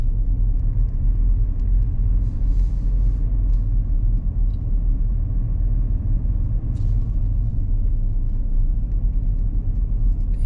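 A road vehicle drives steadily along, its low engine rumble and road noise continuous and fairly loud throughout, with a few faint higher rattles or clicks rising briefly over the drone; no one speaks.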